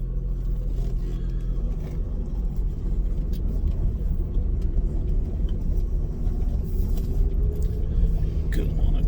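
A Ford Mustang with a 3.8 V6 engine, fitted with a cold air intake and new spark plugs, drives along with a steady, loud engine rumble and road noise throughout, and no talking.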